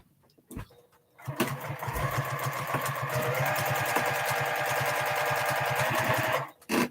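Domestic sewing machine quilting, running in a long fast burst after a few quiet clicks, its rapid needle chatter and motor hum loud and close, stopping abruptly near the end.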